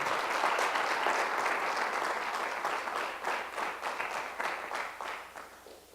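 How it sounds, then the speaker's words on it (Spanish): A church congregation claps its hands in praise, a dense, loud round of many people clapping together that holds steady and then gradually thins out toward the end. "Dale una ofrenda de palmas al Señor."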